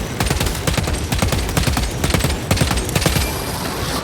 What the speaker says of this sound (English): Fill its brains with bolter fire!